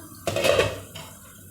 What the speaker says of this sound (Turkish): Normal tencereye kapak koyuyorum üstüne ve pişmesini bekliyorum